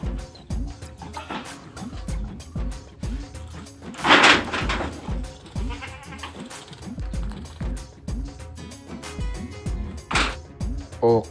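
Several Boer goats bleat repeatedly amid rustling and shuffling, with a couple of louder clattering bangs nearby.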